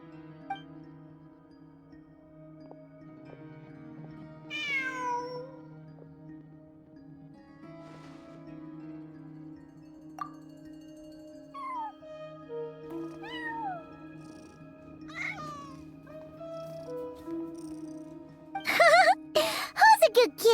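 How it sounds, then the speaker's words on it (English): A cat in the video game Genshin Impact meows several times, short rising-and-falling calls at moderate volume over a steady low musical hum, with a brief jingly burst near the end. "Who's a good kitty?"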